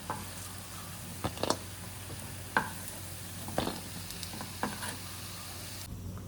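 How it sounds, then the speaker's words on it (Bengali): Fish roe fritters for a catla fish curry fry in hot oil, giving a low continuous sizzle broken by several sharp clicks and spatula knocks spaced every second or so, near and fairly quiet, with no talking. "আর কতগুলো বড়া আমি আরেকবার ভেজে নেব"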